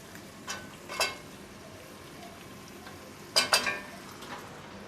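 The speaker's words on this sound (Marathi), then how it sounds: "आता मटण सुद्धा आपल्याला मसाल्यामध्ये चांगलं एकजीव करून घ्यायचं आहे।" Mutton being stirred into fried masala in a pot for a wedding-style Agri-Koli curry: two scraping stir strokes over a low, steady background, the second cluster of scrapes louder and closer.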